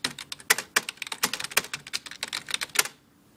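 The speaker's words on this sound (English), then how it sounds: "I have the original Dell keyboard," Fast, close clacking keystrokes come from the original Dell keyboard of a Dell Dimension C521 desktop, an irregular burst of key presses that stops abruptly near the end.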